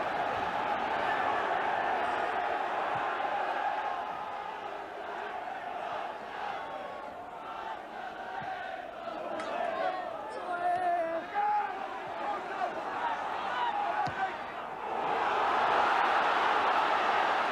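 Football crowd at a snowy Barnsley v Portsmouth Division Two match, a broad continuous roar with swelling shouts, heard under a commentator talking.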